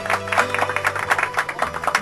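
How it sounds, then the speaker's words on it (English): Applause on a Grand Theft Auto: Liberty City Stories radio cooking show, a short burst of steady, even clapping from a small studio crowd at close, fairly loud level. "Yes, thank you for the clapping."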